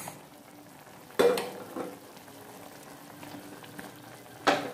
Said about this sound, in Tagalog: Lalagay na po natin ang patatas.